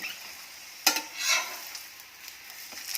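Gobi paratha, a Punjabi-style cauliflower-stuffed flatbread, frying in oil on a hot pan: a steady soft sizzle with a sharp scrape or press near the start and a few quieter clicks after, close and without talk.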